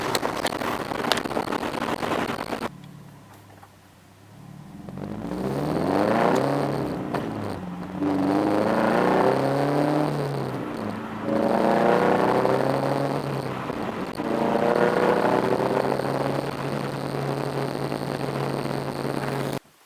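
A Subaru BRZ fitted with an aftermarket exhaust header revs up in several rising pulls, each swelling and easing off as it shifts and downshifts, loud and close under wind noise.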